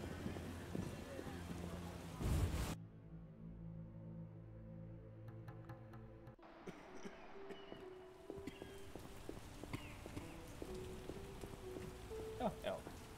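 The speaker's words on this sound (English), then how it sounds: "How sad when it rains." A steady rain downpour in the video game Witcher 1, a soft hiss of drops on surfaces that continues throughout, broken by sharper game sound effects, with occasional voices in the game talking.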